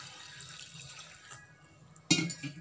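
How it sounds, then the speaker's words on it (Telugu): Water poured over soaking poha (flattened rice) in a bowl and then tipped out, a soft trickling wash that ends in a louder splashing drain near the close. "ముందు కొంచెం నీళ్లు పోసేసి నీళ్ళన్నీ వంచేసేస్తున్నాను"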